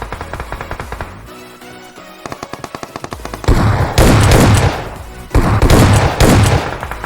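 Loud bursts of automatic gunfire from PUBG Mobile: rapid rhythmic shots at first, then long dense volleys that fill the space and break off abruptly, close and alone without talk.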